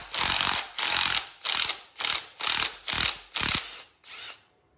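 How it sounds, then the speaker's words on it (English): Power drill or impact driver backing bolts out while changing the foot controls on a Yamaha Road Star Warrior motorcycle, eight loud close bursts of whirring with a ratcheting edge, each about half a second long, separated by brief pauses, the last one shorter and softer. "Drill didn't get it the first time though."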